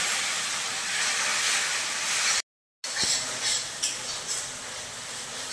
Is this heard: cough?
no